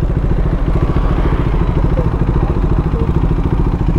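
A TR390 motorcycle engine runs close by at a steady mid-pitched rumble with light clatter as it is ridden in and parked outside a lakeside cafe resort. The sound stays continuous, with no talk.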